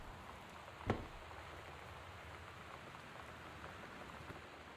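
Steady, faint rain patters through a house in the Gone Home video game. One soft knock sounds early on, and no one speaks.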